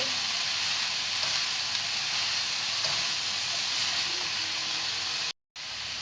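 Bean sprouts stir-fried over high heat for spring rolls, giving a loud, steady close sizzle with faint stirring scrapes throughout and a brief dropout near the end, with no talk.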